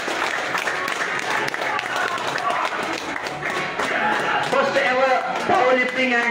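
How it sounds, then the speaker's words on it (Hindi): A crowd applauds with steady clapping throughout at a weightlifting and bodybuilding championship, while an amplified voice speaks over it. "तालियों से स्वागत किया जाए"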